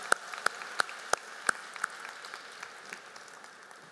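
Scattered claps at a Hall of Fame gala for athletics, a handful of distinct sharp hand claps in an irregular rhythm at the start that thin out and fade into quiet room tone.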